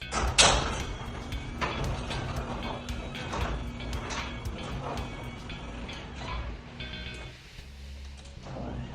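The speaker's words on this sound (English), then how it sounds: "you're gonna bring your door down and you're gonna test it with your opener" A garage door runs down on its electric opener after new springs are fitted, making a continuous rumbling, rattling slide with rhythmic clunks from the rollers and a heavy thud near the end, close by, with no talking.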